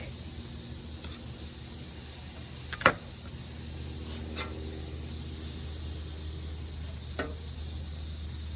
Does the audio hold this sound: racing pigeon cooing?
no